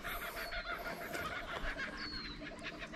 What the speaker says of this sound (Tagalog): Yung mga narinig nyo yan, mga ibon yan.